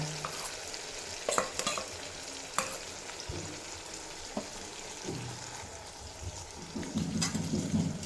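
Sesame, poppy seed and green chilli paste frying with tomato in a pan, a low soft sizzle broken by sharp spoon clinks and scraping stirs, fairly quiet overall.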